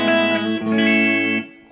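A Fender 70s Stratocaster with EMG Dave Gilmour pickups rings out a sustained, bright electric guitar chord that swells, is restruck, then fades out; no voices.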